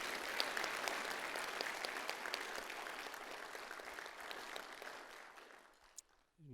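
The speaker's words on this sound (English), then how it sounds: "can we just give her just a round of applause?" Audience at a University of Otago lecture applauds a guest, a steady round of clapping from a large crowd that fades out near the end.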